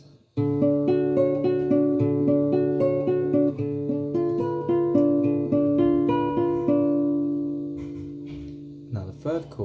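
Guitar chords picked in a steady repeating pattern, ringing notes overlapping as the chord shape changes partway through, close and clear with no talking; a brief scrape near the end.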